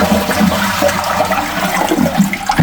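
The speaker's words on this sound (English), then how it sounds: "here's the flush valve here, so I'll press that" A toilet, in place for over a year, flushes as its valve is pressed and the tank empties in a loud, steady rush of churning water close by, with no talk over it.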